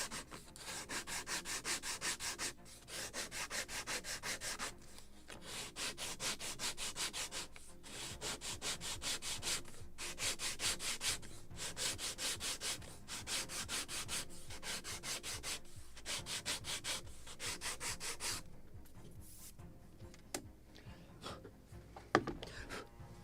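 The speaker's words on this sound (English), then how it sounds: "let's chamfer first, and then we will start trying on the model, and we will decide where to sand more" A wooden plank for a model of the gunboat Philadelphia (1776) is sanded in fast, rhythmic back-and-forth strokes, giving a soft, steady scratchy rasp that fades near the end into a few light taps and knocks.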